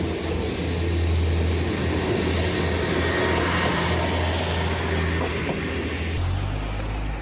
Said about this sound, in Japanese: 自分が乗ってきた列車が折り返して帰っていきました。